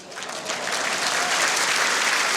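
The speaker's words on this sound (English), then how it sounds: "applauding that ball from Nicky Brett." Spectators clapping at the World Indoor Bowls Championship after a well-played bowl by Nicky Brett, steady applause that builds and holds at full strength.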